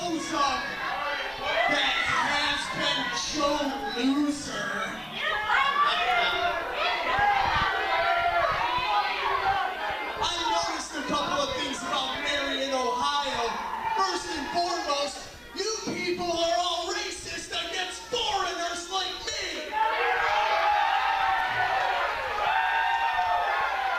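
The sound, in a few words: wrestling crowd chanting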